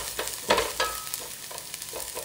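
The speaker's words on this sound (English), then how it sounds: "You want to start by frying your garlic and shallots in oil." Garlic and shallots frying in oil for Lao rice soup, with a steady close sizzle and a few stirring scrapes over about two seconds, no talk.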